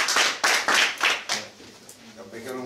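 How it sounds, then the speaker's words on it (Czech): A short burst of rhythmic clapping at a municipal council meeting in Jesenice, several sharp claps close together that stop after about a second and a half, with voices in the room. "jste právě zatleskali"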